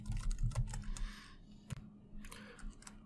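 Rapid keystrokes on a computer keyboard while code is written for a Python point-cloud import, clustered in two bursts with a quiet gap, close and fairly clear over a low steady hum.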